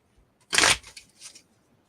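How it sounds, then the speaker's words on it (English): Playing cards being shuffled back into the deck during a Star Wars Rebellion board game, one quick riffling burst followed by a couple of softer rustles, close and alone with no talk. "I'll shuffle these cards back into the deck"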